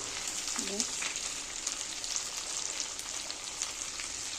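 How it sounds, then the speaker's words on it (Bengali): A mustard and green chili paste with salt, turmeric and Kashmiri chili powder fries in hot oil for a fish curry, giving a steady, close, dense sizzle throughout. "এবারে মশলাটা কষিয়ে নেব।"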